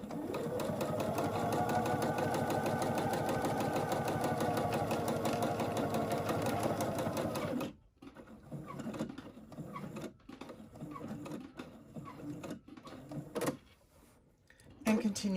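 Sewing machine stitching a fabric face mask storage pouch, a long loud continuous run of steady whirring for about half the time, then stopping into quieter handling clicks and fabric shifting.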